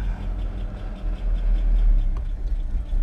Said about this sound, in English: The car effing starts.